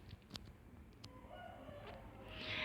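A rooster crows in the background, a rising call that swells toward the end of the moment over a low hum of passing cars, with no talking.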